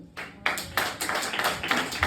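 A stand-up comedy audience claps in scattered, uneven bursts in response to a question from the stage, several sharp claps spread across about two seconds with no continuous ovation.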